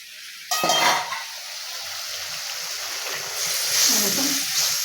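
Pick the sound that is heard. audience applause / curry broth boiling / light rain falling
curry broth boiling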